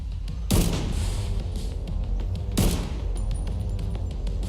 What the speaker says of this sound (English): I'm sure I can throw grenades in this little parking garage